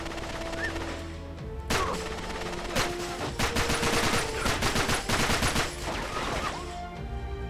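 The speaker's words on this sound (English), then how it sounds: "Who is shooting me?" Video game gunfire from Uncharted 3: a fight at the chateau where bursts of rapid automatic shots and single cracks come in clustered volleys, loud and sharp over a low background hum.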